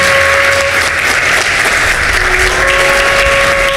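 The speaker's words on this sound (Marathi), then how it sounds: "जोरदार टाळ्या वाजून प्रभूला धन्यवाद देऊया" Loud, sustained applause from a church congregation giving thanks during a Christian worship service, a dense, even wash of many hands clapping together with no pauses, heard alone without talk.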